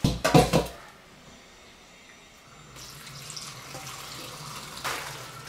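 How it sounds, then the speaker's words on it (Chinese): Tap water runs into a sink to rinse bok choy, starting with a few loud splashing bursts, then settling into a quieter steady flow with another brief splash near the end. "接点水，咱们把这个小白菜给它洗一下。"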